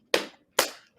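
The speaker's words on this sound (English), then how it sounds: "I gotta clap that one up, Walter" Two sharp hand claps land close and distinct about half a second apart, with the start of a third cutting in at the end, otherwise quiet.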